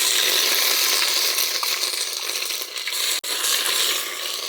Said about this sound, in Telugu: అల్లం చిన్నులపాయ పేస్ట్ కూడా వేగిపోయింది.